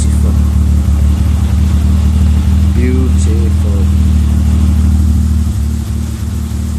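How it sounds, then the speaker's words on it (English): A car fitted with a custom exhaust rumbles loudly and close at a steady idle with a deep, constant drone, while someone briefly speaks over it. "Custom exhaust."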